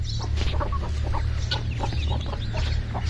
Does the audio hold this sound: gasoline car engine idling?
no